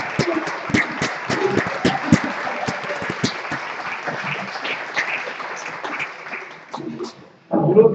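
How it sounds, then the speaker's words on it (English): Applause for graduating education students at a graduation reception, a round of moderate clapping that fades near the end before a voice begins speaking. "will you please stand so we can give you a round of applause?"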